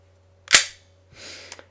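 A gas-powered airsoft gun fires BBs, a sharp close crack followed by a softer hiss of gas and a small click, two short bursts in a quiet room.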